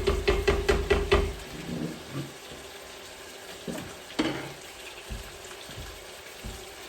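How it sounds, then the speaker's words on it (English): Ingredients for a brown sauce sauté in a hot pan, opening with a quick run of rhythmic stirring scrapes over a sizzle, then quieter intermittent clinks and shuffles against a soft frying hiss. "At this stage, I just want the flavour, just want to saute it a little bit."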